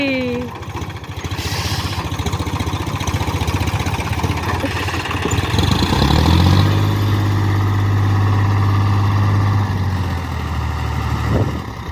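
A low, steady engine rumble idles and then revs up, a diesel tractor ploughing a field, droning loudly for several seconds before easing back down.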